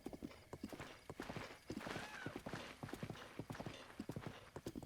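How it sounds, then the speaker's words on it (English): A horse's hooves clip-clop in a quick, steady galloping rhythm across terrain in the video game The Legend of Zelda: Breath of the Wild, close and fairly quiet. "I like how the horse just auto paths to where I need to go."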